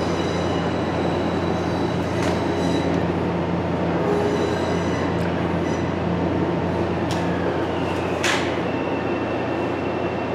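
A Metro-North M7A commuter train passing through Southeast station in Brewster, New York: loud steady rumble of wheels on rail with metallic squeals and clanks, continuous throughout, no talk.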